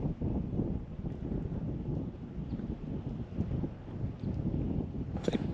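Wind blows outdoors in steady low rumbling gusts across the microphone, moderately loud and continuous, with faint rustling and no talking.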